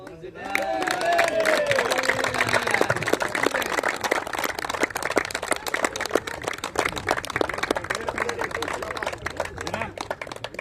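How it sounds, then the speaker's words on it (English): A crowd claps steadily for the scorer at a cricket post-match presentation and trophy ceremony. The applause is dense and sustained, with a voice briefly heard over it at the start. "Can we have a round of applause for the scorer, please?"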